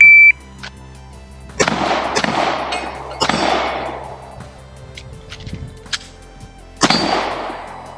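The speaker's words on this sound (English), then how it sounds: "we will do a couple shots on one target, a couple shots on the other" Pistol fired at two targets by a shooter wearing gloves on a range: a short timer beep, then four loud, sharp reports in two pairs with a long pause before the last, each followed by a ringing, echoing tail.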